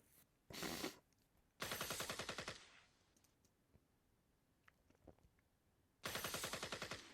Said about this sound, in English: And then I added in the sounds of a car crash and gunfire